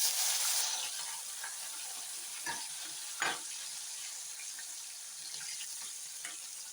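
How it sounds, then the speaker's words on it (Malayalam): Green chillies sputter in hot oil in a kitchen pan, a quiet steady sizzle with a couple of sharper pops, heard without any talking. "ആദ്യമേ നമുക്ക് പച്ചമുളകൊന്ന് മൂപ്പിച്ചെടുക്കാം"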